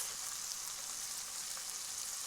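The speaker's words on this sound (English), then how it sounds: "you should hear a gentle sizzling sound like this." Fish fries in a hot pan, giving a steady, gentle sizzle that hisses evenly and quietly throughout without any voices.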